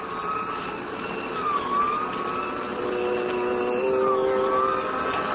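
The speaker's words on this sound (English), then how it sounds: "We both heard the siren then." A wailing emergency siren rises and falls over steady traffic rumble, loud and fairly close, with no voices.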